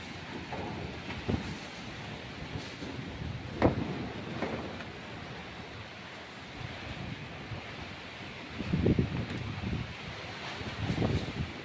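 Wind blowing across open farmland after rain, a steady broadband rush with louder gusts swelling and fading, no voices.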